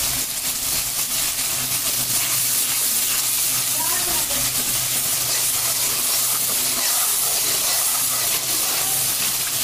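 Crab pieces frying in a pan with cooked-down spice paste and ginger paste, giving a steady, loud broadband hiss and sizzle that runs unbroken throughout.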